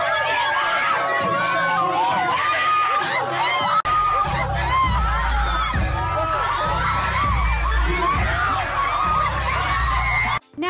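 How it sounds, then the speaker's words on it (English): A dense mass of piercing shrieks and screams from a crowd of high school girls at a prom fills the scene continuously, loud and close, with excited voices blended in. "despite the piercing shrieks from a sea of high school girls"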